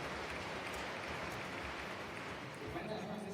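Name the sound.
audience applause at a conference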